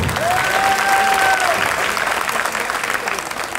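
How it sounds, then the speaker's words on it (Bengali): A meeting audience at a youth political gathering claps steadily and loudly in sustained applause, with a brief tonal whistle or feedback sound early on and a slight fade toward the end. "সবার জন্য আমি আরেকটু জোরে হাততালি দিতে বলবো।"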